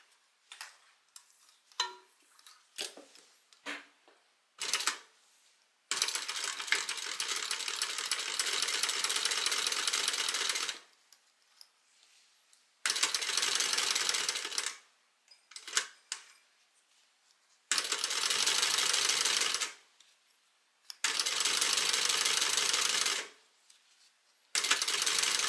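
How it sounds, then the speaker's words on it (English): A sewing machine top stitches along a zipper in repeated bursts of rapid, even clatter, each run lasting several seconds and separated by short pauses and small clicks. "now we're just going to top stitch along the zipper"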